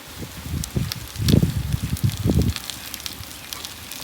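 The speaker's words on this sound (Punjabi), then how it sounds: "ਤੇ ਹਵਾ ਵੀ ਹੁਣ ਬਹੁਤ ਜ਼ਿਆਦਾ ਚੱਲਣ ਲੱਗੀ ਹੈ" Wind gusts buffet an outdoor wood cooking fire where onions and okra are frying, heard as a run of close, low, rumbling blasts for about two seconds before settling to a quieter crackle.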